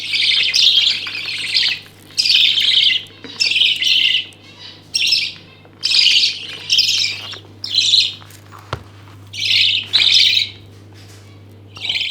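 Pet budgies in a giant bird cage chirp and squawk in repeated bursts about a second long with short gaps between them. The calls are close and loud over a low steady hum.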